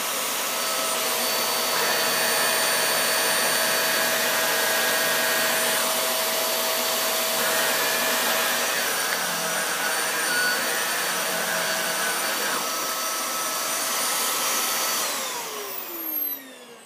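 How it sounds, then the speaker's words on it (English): A Hoover Windtunnel Air vacuum cleaner runs with its brush roll off, a loud steady whining roar with shifting tones that holds throughout, then winds down at the very end. "There is my Hoover Windtunnel Air."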